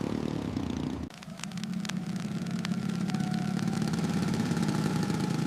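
A motor engine rumbles steadily after a sudden shift, a low droning idle with sharp clicks and rattles scattered over it, close and continuous.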